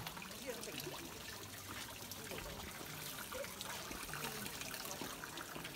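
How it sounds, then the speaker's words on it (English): Water trickles and splashes steadily from an ancient water wheel in a Japanese gassho-style heritage village, a continuous wet babble with faint voices in the background. "It's an ancient water wheel."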